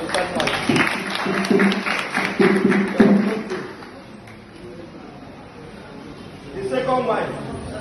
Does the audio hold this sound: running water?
no